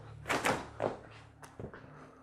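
An indoor door in an abandoned castle is tried and found shut: a few soft knocking thuds and rattles of the handle, quiet and close, with a low hum behind.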